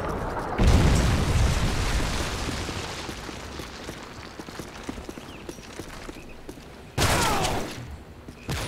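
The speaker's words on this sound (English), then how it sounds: "Friendly predator missile inbound." A predator missile explosion in Modern Warfare 3 hits with a loud, broad blast that rumbles and slowly fades into crackling debris, then a second sharp burst follows near the end.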